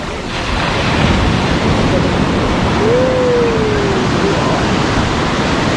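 Ocean waves surging at Sabang Beach in Baler, a loud, continuous roar of surf with wind noise and a brief faint tone in the middle.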